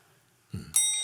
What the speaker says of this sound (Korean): 종소리가 좋죠.